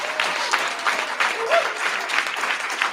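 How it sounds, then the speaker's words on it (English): A room full of people claps for a panel at an event on environmental racism, with moderately loud, continuous applause that swells and dips in waves. "let's give this whole panel another round of applause"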